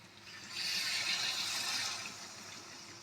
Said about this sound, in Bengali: এবার আমরা এখানে পরিমাণ মতো